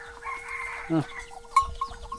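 Chickens on a village farm in Laos, with brief clucks and a short crowing-like call amid outdoor farmyard ambience, mid-distance and moderately loud.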